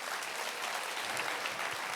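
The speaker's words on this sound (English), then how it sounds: "Give him a round of applause." An audience at a financial seminar breaks into steady applause for a presenter named Mike, the dense clapping filling the room at an even level throughout with no voices above it.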